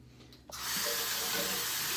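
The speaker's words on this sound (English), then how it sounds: "let me go ahead and rinse everything off, clear off my face" A bathroom tap turns on and runs steadily as a face is rinsed after shaving with a Gillette razor, a brief click then a constant close hiss and splash, no talking.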